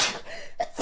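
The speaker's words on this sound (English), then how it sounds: "I sneeze." A single short human sneeze, a quick breathy burst followed by a brief sharp release, close and moderately quiet.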